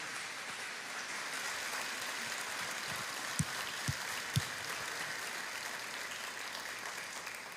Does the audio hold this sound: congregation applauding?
yes